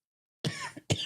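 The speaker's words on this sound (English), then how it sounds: "You're coughing" A single sharp cough, close and loud, after a moment of silence, followed by a second quick cough.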